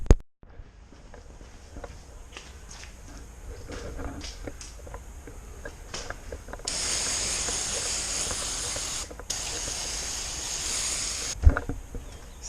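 Aerosol degreaser sprayed under a Nissan Skyline GTR with an oil leak: two loud, steady hissing bursts of several seconds each, split by a brief pause, after quieter shuffling and handling noises.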